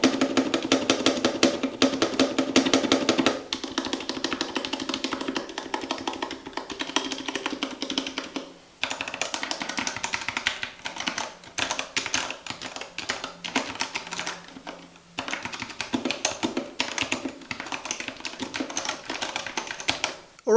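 Steady Royal Kludge RK89 mechanical keyboard typing on brown switches with dense, rapid keystrokes, fairly close, with slightly scratchy clacks and a few brief pauses between bursts.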